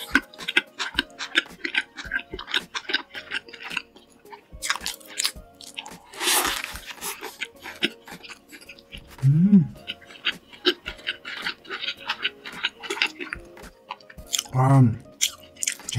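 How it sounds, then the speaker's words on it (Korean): Someone eats an egg bacon burger up close, with crisp bites and wet, squishy chewing repeating steadily for a long stretch, while a soft voice speaks now and then. "햄버거는 요 에그 베이컨 버거로 한번 가볍게 시작해 보겠습니다."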